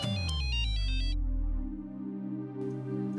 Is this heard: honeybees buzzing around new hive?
no